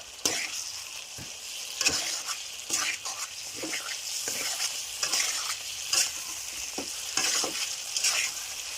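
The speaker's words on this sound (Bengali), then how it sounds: "দিয়ে ভালো করে আবার কষিয়ে নেব" Pieces of pre-fried pointed gourd (potol) stir-fried in hot oil, with a steady close sizzle broken by repeated sharp scrapes and clacks of a spatula stirring in the pan.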